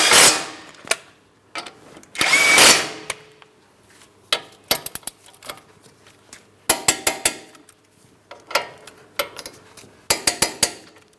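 Brake caliper bracket mounting bolts on a 2008-2016 Chrysler Town & Country being run in with a power tool, heard as several short bursts of whirring and rattling with pauses between them, close and loud.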